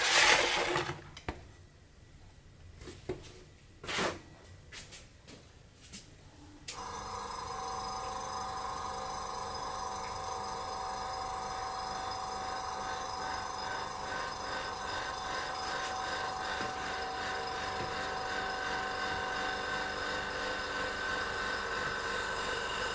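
Air from a small compressor hisses through the intake valve of a Farm Boy hit-and-miss engine: a few sharp knocks and clanks at first, then a loud, steady, continuous rushing whir that holds to the end.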